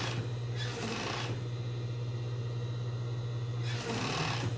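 A sewing machine stitches bikini hotpants-style panties in size 48, running in steady close bursts with a brief pause between runs, a continuous mechanical hum and rattle.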